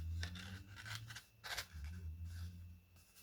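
Cardstock for a card base is folded along a score line by hand, with soft, close rubbing and crisp creasing sounds over a low hum, no voices.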